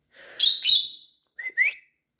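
A person whistles through the teeth, imitating bird chirps for pet lovebird parrots: two bright hissy chirps followed by two shorter whistled tweets, close and fairly loud, with silent gaps between.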